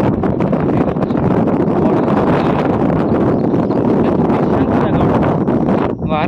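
Wind blows hard into a microphone outdoors, a loud, continuous rumbling buffet that fills the whole stretch almost without a break before it briefly drops off near the end.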